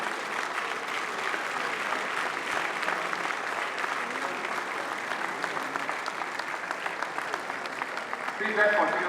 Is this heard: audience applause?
yes